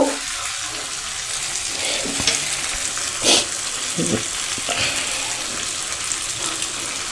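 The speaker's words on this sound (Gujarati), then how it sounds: "હવે તેને હલાવીને સારી રીતે મિક્સ કરી લેવું।" Tomatoes with crushed garlic chili sizzle and fry in a hot pan for Kathiyawadi gathiya shaak, with a steady bright hiss broken by scraping stirs and spatula knocks close up.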